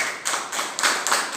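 A church congregation claps in a steady rhythm, roughly four beats across a short stretch, close and moderately loud with no voices.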